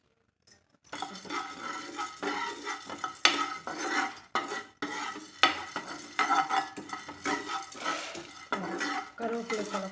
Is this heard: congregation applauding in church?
no